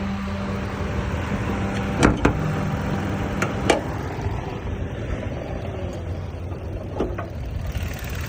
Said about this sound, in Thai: มีเครื่องสตาร์ทไว้อยู่นะครับ เครื่องเดินนิ่งมากนะครับ